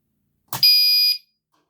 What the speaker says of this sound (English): let's go ahead and pull the fire alarm